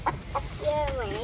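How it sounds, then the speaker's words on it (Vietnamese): Chicken clucking near a speaker at a home in Vietnam, a few short clucks and a rising call over background noise, with people talking nearby. "Trời con gà hả?"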